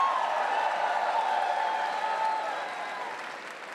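Live audience applause at the Star Wars Celebration 2019 stage show, a dense steady wash of clapping from a large crowd that slowly thins toward the end.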